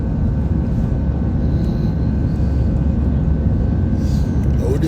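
Steady, loud broadband roar inside a passenger airplane in flight, heard from the cabin on a first plane ride, constant and unbroken, with no clear speech.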